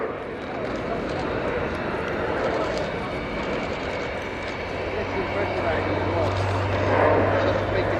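A military transport aircraft with its undercarriage extended flies past at an air show, a steady broad engine roar that swells slightly near the end, with a commentator talking over it throughout.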